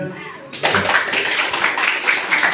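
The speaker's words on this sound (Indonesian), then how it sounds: "Tepuk tangan dulu sebelumnya." After a brief quiet stretch with a voice, a group in a classroom-style session breaks into clapping that continues steadily at moderate loudness, with some background chatter.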